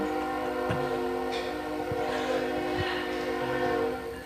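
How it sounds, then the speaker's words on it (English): A passing train sounds its horn in a sustained, loud, multi-tone blast, with rumbling and occasional clanks from the rail cars underneath and fading slightly at the end; no one speaks. "Here comes another train."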